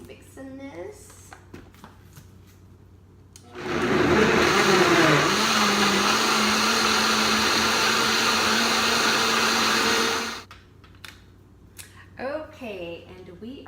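A kitchen blender whirs loudly and steadily for about seven seconds, pulverizing whole fruit and vegetables with the peel still on, its motor pitch settling as the mix smooths; a voice talks briefly before and after.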